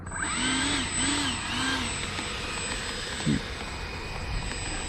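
A Freewing L-39 80mm electric ducted-fan RC jet plane flies past, its steady whining roar rising and falling in sweeps, fairly loud and continuous with outdoor background noise.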